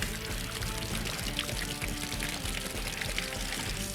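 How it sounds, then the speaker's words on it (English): Tomatillos are rinsed under a running tap, with a steady, full rush of water pouring and splashing continuously at close range for a few seconds, alone without talk. "When we use tomatillos, we give them a rinse"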